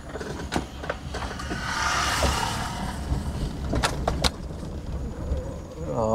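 Motorcycle passing on a mountain road near a landslide: a moderate engine drone rises and fades over a couple of seconds beneath quiet rumble and scattered clicks inside a vehicle, with people talking.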